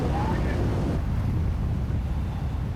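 Strong wind and waves at sea where industrial divers lay an undersea internet cable: a steady, close, roaring rush of wind buffeting the microphone fills the whole stretch without letup.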